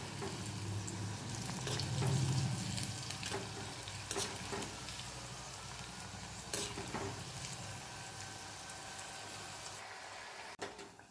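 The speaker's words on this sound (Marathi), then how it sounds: "हे पहा, या कोथिंबीरीच्या वड्या या प्रकारे तळून घ्यायच्या आहेत सर्व।" Coriander fritters (kothimbir vadi) fry in oil over medium heat, giving a steady close sizzle with occasional stirring clinks and a sharp knock near the end.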